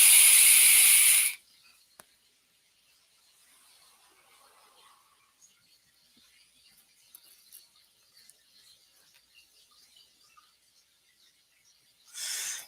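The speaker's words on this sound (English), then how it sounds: "I'll hit the vape and it sounds really loud." An electronic vape is hit, giving a loud, close hiss that lasts about a second and cuts off. Faint crackle and quiet room noise follow, then a second hiss starts and is cut short at the end.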